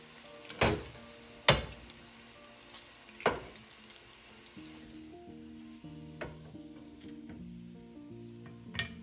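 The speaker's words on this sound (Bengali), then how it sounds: "আমার ফুলকপিগুলো ভাজা হয়ে গেছে। এখন আমি এক এক করে ফুলকপিগুলো তুলে নিব।" Cauliflower pieces frying in oil in a pan, a quiet steady sizzle broken by several sharp clatters as pieces are stirred and lifted out.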